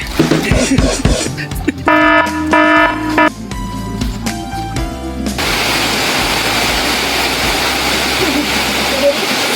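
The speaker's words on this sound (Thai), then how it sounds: "ฝนมาครับฝนมาตอนนี้" Steady, dense hiss of heavy rain pouring down on a hillside farm, close and loud, following a few seconds of voices and clattering noises.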